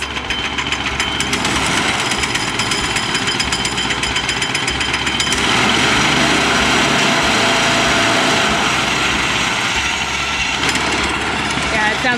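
A small gasoline engine whose carburetor was just worked on fires up and keeps running, a loud, buzzy, rattling drone held steady for several seconds up close outdoors, with voices talking over it.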